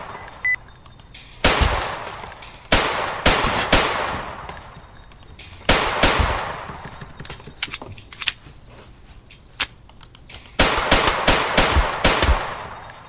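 Gunfire from a drum-magazine carbine in a video game, bursts of loud rapid semi-automatic shots in clusters separated by short pauses, with metallic clicks and clatter between volleys.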